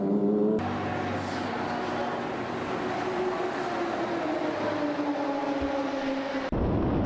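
A pack of 25 race cars accelerates to the green flag into turn 1 at Daytona, a sustained engine roar with rising pitch, heard from a distance as the field speeds by, with a commentator talking over it.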